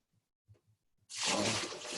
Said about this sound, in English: I put in 2 cups of water here.